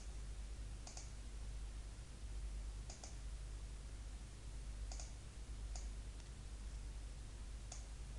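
Five faint, evenly spaced computer mouse clicks, roughly two seconds apart, over a low steady hum, with nothing else heard.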